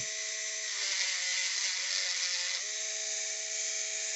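A small power grinder smoothing sharp edges off a metal tank valve: a steady, high, buzzing whine that runs without a break, its pitch dipping slightly as it bears down in the middle, and no talking.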